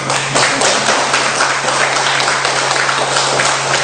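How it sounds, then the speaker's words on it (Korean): Lecture audience applauding together in a hall, dense steady clapping that holds at an even level for several seconds before a light trailing off. "박수 한번 쳐주시면"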